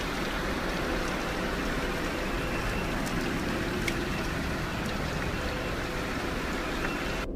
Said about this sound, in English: he decides to take a random video of the rain.